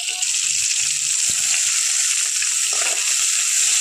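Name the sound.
tomatoes and capsicum frying in oil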